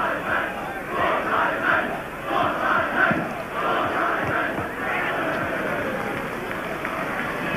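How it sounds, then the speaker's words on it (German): Spectators chanting at a 1990 German Cup football match between Dynamo Dresden and Bayern Munich, a rhythmic crowd chant rising and falling in a large stadium, steady and moderately loud. "kommen die ersten Rufe der Zuschauer"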